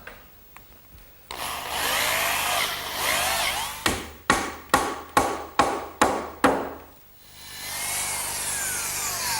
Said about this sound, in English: Now I'm just going to drill a hole down through the top and pin it with a dowel.